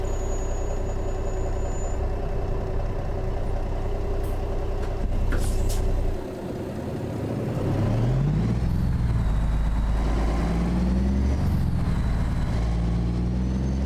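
A heavy truck engine in American Truck Simulator idles with a deep rumble, gives a short air-brake hiss, then revs up with climbing, droning tones as the truck pulls away.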